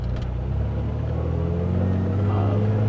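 A car drives steadily on a road with continuous low engine and tire rumble close by, and no voices are heard.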